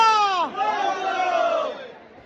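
Devotees shout a loud group chant to the goddess Ekvira at her hilltop temple, several voices rising and falling together in a brief, close burst.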